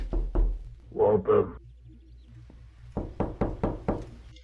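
Sharp knocks on a door arrive in two groups: a couple of raps up front, then a rapid run of about five close knocks. A person speaks briefly between the groups.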